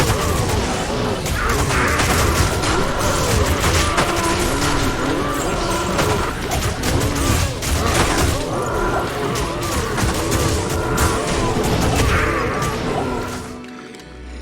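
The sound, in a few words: Necromancer Corpse Explosion in Diablo 2 Resurrected video game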